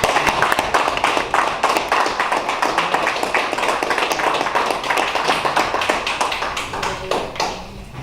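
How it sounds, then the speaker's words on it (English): Audience applause at a peace gathering, a dense, steady crowd of clapping hands that stays loud and close for the whole stretch before tapering slightly near the end. "so recognize them and give them a round of applause"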